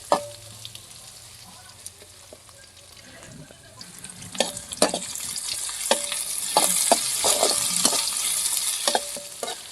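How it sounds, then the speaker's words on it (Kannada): Onions fry in oil in a pan while a spoon stirs them, with a steady sizzle under a series of sharp scraping clicks and knocks, close and growing louder toward the end. "ಉಳ್ಳಾಗಡ್ಡೆ ಹಾಕೊಂಡಿರಲ್ಲ ಬೇಯಿಸಿದ ಕೆಂಪಗಾಗವರೆಗೆ ಬೇಯಿಸಿ ಎಣ್ಣಾಗೆಲ್ಲ ಫ್ರೈ ಮಾಡಿ"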